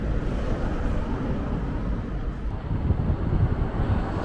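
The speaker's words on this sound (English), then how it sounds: "It's getting a bit windy now" Wind blows steadily outdoors on a residential street near a church, a continuous low rumbling buffet across the microphone with slight gusts toward the end.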